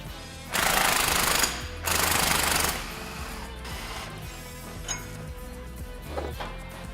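On a truck's leaf-spring suspension, a rear spring bolt is driven out with a pneumatic impact tool: two loud, close, rattling bursts of about a second each, then quieter clinks of metal parts.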